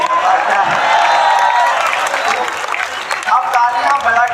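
Audience at a Hindi poetry recital breaks into dense, steady applause with some cheering, loud and close, tapering slightly toward the end.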